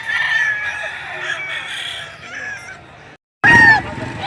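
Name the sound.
roosters at a chicken market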